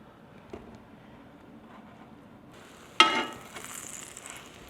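French toast dropped into melted butter in a hot nonstick pan sets off a sudden loud sizzle that keeps hissing steadily after the first burst, close by, with no talking.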